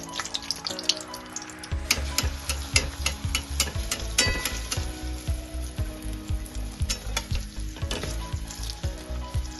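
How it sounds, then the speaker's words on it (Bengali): Vadas for dahi bhalla deep-fry in hot oil with a continuous loud sizzle, broken by repeated sharp clinks and scrapes of a utensil turning and stirring them in the pan. "এইভাবে আমি সবগুলোকে ভেজে নেব এবার আমি তুলে নেবো এভাবে আমি সবগুলোকে ভেজে নেব"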